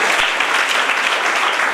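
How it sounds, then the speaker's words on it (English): An audience at a Rotary Club scholarship event claps loudly and continuously, a dense, even burst of applause with no talking. "Please have a round of applause."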